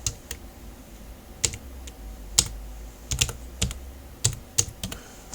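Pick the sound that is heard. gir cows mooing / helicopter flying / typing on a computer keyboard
typing on a computer keyboard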